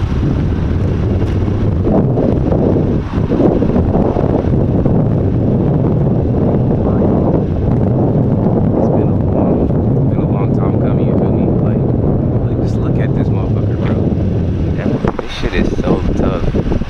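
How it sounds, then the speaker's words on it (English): Wind buffets a microphone outdoors as a steady, loud low rumble that roars without a break for the whole stretch and masks most other sound. "Sorry if y'all can hear the wind and shit."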